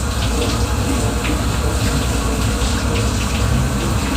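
Steady, loud rush of shower water running without a break while a pet bird is bathed under it.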